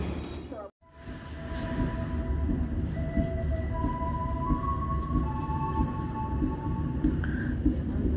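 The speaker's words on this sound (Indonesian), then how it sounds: "kereta api Serayu berangkat stasiun Cimahi." The Serayu passenger train departs Cimahi station, rumbling steadily nearby with continuous low-frequency rolling noise, faint tonal squeals and muffled voices in the background.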